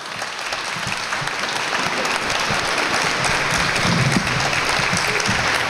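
Steady applause from an audience at the grand opening of an Insel Air office, a dense continuous clatter of many hands that holds at an even level throughout.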